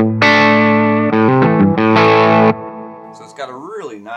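Loud overdriven electric guitar through a Nace M3-7R amplifier head with thick distortion plays sustained chords, then quieter wavering processed notes ring out at the end.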